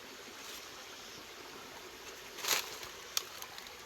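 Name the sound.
small clear stream flowing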